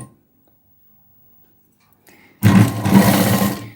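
Sewing machine running loud and close as it stitches piping onto a boat-neck blouse, starting after a quiet pause and then whirring steadily to the end.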